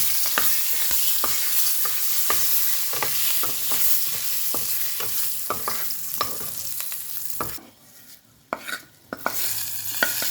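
Curry leaves hit hot oil for a tempering for gongura (sorrel) chutney, making a close sizzle with repeated scraping stir strokes; it briefly quietens near the end, then the clatter returns.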